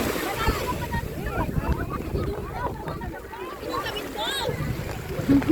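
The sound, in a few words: strong ocean waves during rain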